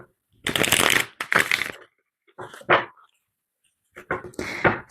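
Tarot cards being shuffled in several quick riffling bursts, close and crisp, separated by short silences.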